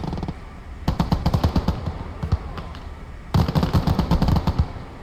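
Rifle grenades and small arms fire in the WWII shooter Gates of Hell Ostfront, heard as two loud rapid bursts of cracking shots separated by a quieter gap.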